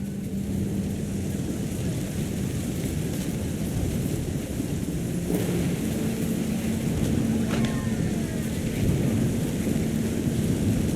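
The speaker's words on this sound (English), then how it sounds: "thunder sounded much too close and full of angry power" Thunder in the video game What Remains of Edith Finch rolls as a low, steady rumble under ongoing rain-like hiss, with a brief sharper crack midway, sustained and moderately loud throughout.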